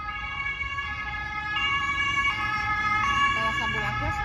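An ambulance siren in Germany wails with steady, repeating tones, moderately loud and continuous throughout, over a low rumble of road traffic.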